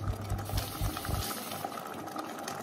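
A tomato and Indian curry sauce with mixed fish simmers in a pot, giving a close, steady bubbling hiss with a few low thumps early on.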